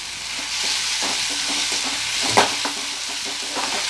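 Onion tomato gojju is stirred in a frying pan, with a steady sizzle under repeated scraping strokes of the spoon and a louder knock partway through.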